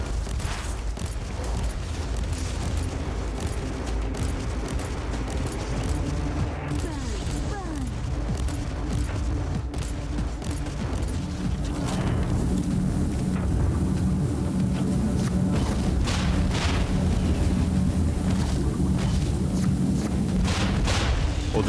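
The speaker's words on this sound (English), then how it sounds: "Reload and explosions." Explosions and gunfire in the video game Warhammer 40,000: Inquisitor – Martyr form a dense, continuous barrage of booms and bursts of shots that carries on without letup.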